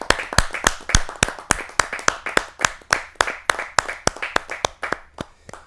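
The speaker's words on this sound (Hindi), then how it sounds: "जोरदार तालियों के साथ" Audience at a Hindi kavi sammelan poetry gathering clapping in a steady, even rhythm, about three sharp claps per second, loud and close, continuing throughout with no talk over it.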